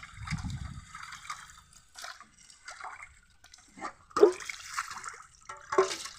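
Water drains and trickles away from freshly washed fish in a home kitchen, after cleaning with lemon and salt. It sounds like soft, intermittent splashing and dribbling, with a couple of sharper clunks near the end.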